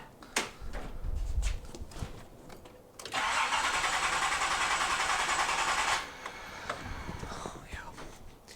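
A Nissan Z31 with its ignition recently disturbed cranks with a few clicks and rattles, then catches and holds a rough, hissy running note for about three seconds before settling to a lower, uneven idle; faint voices murmur around it.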